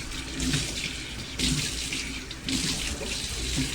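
Tap water runs steadily into a kitchen sink, a continuous broad splashing rush that swells and eases slightly as the flow shifts, close and fairly loud with no talking.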